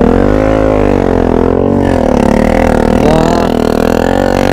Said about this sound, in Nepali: बाइकको साउन्ड सुन्न सक्नुहुन्छ गाइस